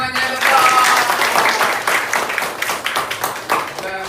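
A classroom of pupils breaks into a burst of dense, continuous clapping that swells and then gradually thins, close and lively, with a teacher's voice faintly underneath.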